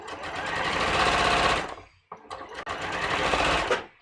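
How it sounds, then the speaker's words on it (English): A sewing machine stitches a fabric cuff seam with a 3/8 inch allowance, running in two steady bursts split by a short pause, loud and close with no talk over it. "I'm just going to stitch this together."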